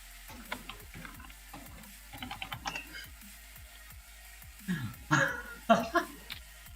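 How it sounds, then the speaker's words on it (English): Keys clatter on a computer keyboard in uneven bursts of quick clicks, near and moderately loud, with some louder clustered taps toward the end and faint background voices around them. "What are you typing?"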